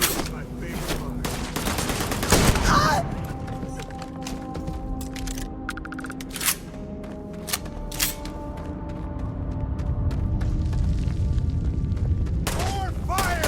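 Gunfire in the Starfield video game: bursts of rapid shots and booms, loud at first, then sparser cracks among mechanical game effects, with a voice shouting over the action.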